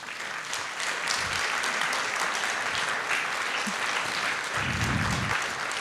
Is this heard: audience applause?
yes